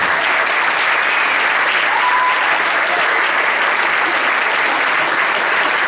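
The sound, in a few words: audience applause for the Alboraya Art Studio team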